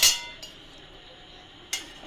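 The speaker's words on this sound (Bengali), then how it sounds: "দেখুন প্যান বসিয়েছি," A frying pan set down on a stove for frying moong dal chilla, giving a sharp metallic clank at the start and a second clank near the end, with quiet kitchen hiss between.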